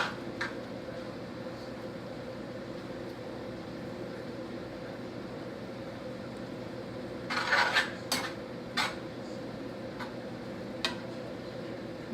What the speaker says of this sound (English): Cover is going to go back on.